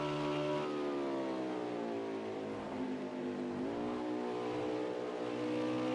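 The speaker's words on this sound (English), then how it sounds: "I want to go on board the 7 right here and listen to him as he goes through the bus stop" Onboard race car engine from a racing video game at Watkins Glen drones loudly and continuously, pitch falling on deceleration into the bus stop chicane, then climbing again as the car accelerates out.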